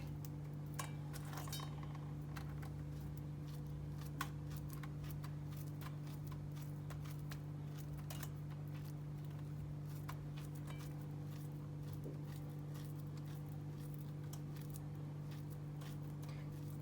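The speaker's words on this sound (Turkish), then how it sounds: "Muzları da böyle iri iri doğruyoruz." A knife cutting bananas into large chunks, giving faint, scattered soft clicks and taps against a board under a steady low kitchen hum.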